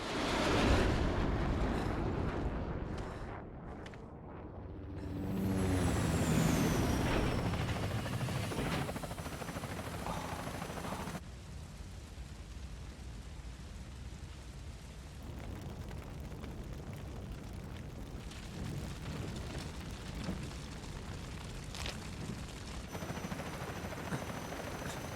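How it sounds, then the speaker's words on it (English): Airstrike explosions in the video game Crisis Core: Final Fantasy VII Reunion, a loud rumbling roar and booms with swelling blasts early on, then a lower sustained rumble of battle ambience, no voices. "Just a casual airstrike."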